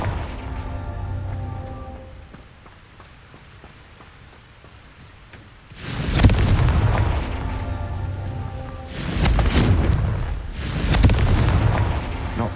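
Fire spell explosions in the Hogwarts Legacy video game: after a quieter stretch, three loud, heavy booms with crackling, rumbling tails burst out in quick succession, with no talking.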